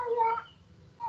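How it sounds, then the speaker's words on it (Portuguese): A house cat gives two odd-sounding, drawn-out meows indoors, separated by a brief pause, close and clear. "o Garf tá miando de um jeito estranho aqui"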